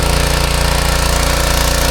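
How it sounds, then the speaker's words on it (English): A pump running while it pumps oil, a loud steady mechanical chugging with a fast regular pulse and a constant drone, close up and with no talking. "It is pumping oil."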